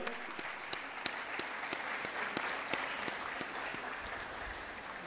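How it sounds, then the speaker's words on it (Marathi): An audience claps for a junior-group prize winner at a science quiz competition ceremony, with sharp, rapid, evenly spread claps forming steady, moderately loud applause. "हिचंही आपण टाळ्या वाजवून अभिनंदन करूयात."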